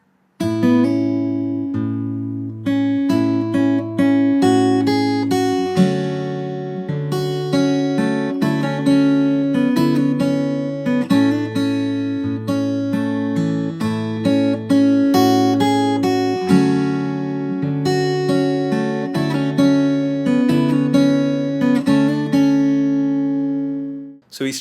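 The verse of a song is played fingerstyle on guitar, with clear plucked notes and held chords ringing in a steady rhythm, close and loud, with no talking.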